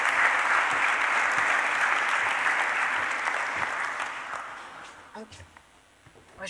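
An audience at an award ceremony applauds Patrick Salès, a full sustained round of clapping that gradually thins out, with a few scattered claps and some voices near the end.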